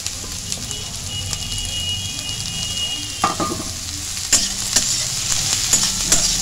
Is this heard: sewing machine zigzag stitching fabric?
no